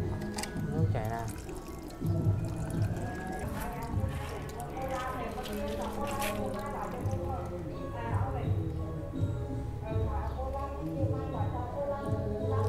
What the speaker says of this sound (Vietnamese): Nước chảy ra.